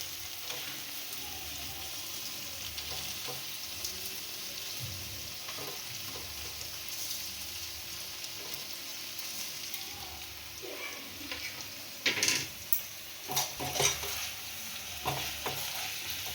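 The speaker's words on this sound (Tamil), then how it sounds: "ஒரு 5 மினிட்ஸ் இந்த கிரேவியில் அப்படியே கொஞ்சம் மிக்ஸ் பண்ணி ஃப்ரை பண்ணிக்கோங்க" Fried eggs in a chilli gravy sizzle in a pan for a long stretch, the steady frying joined later by a cluster of louder spoon scrapes and stirring knocks near the end, with no voices.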